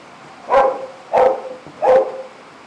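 Three sharp, evenly spaced barks from a nearby dog, loud and clear against a quiet background.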